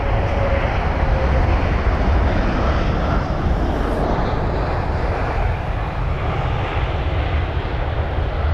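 A Boeing 747 cargo jet landing at London Heathrow at sunset, its engines a steady, loud broadband roar that holds throughout without voices.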